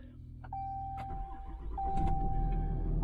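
A Ram 5500 truck engine starts up: a few clicks and a warning chime, then the diesel cranks and catches into a steady, deepening idle rumble, close by with chimes continuing.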